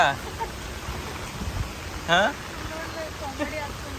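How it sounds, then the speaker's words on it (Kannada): Heavy rain pours down in a steady, dense hiss outdoors, with brief voices and faint passing sounds rising over it now and then. "ಭಾಳ ಅಂದ್ರೆ ಭಾಳ ಜೋರ್ ಮಳಿ ಬೀಳಾಕತ್ತೈತಿ"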